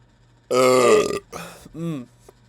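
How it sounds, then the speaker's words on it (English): A long, loud, close burp from a man on a livestream, followed by two shorter throaty belches, alone against a low steady hum. "First burp of the stream."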